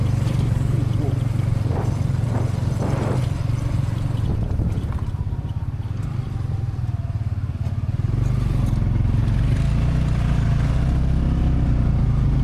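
A motorcycle engine drones steadily and loudly throughout while riding along small country roads in Vietnam, with wind rumble and occasional clatter over the constant low hum.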